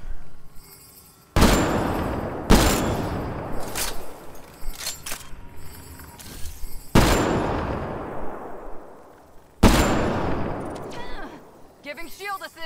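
Gunfire from Mass Effect Andromeda: loud, sharp shots and bursts hit at irregular intervals, each followed by a ringing decay, with scattered smaller impacts and game sounds in between.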